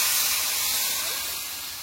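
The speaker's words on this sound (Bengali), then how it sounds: "এবার জল দিয়ে দেবো" Water is added to a hot pan of frying vegetables in a village kitchen, a loud sharp steam hiss that bursts up at once and slowly fades over the short span.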